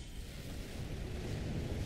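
A low, rumbling explosion from a Spider-Man video game rolls on as a dense, sustained boom at moderate loudness, with no talking.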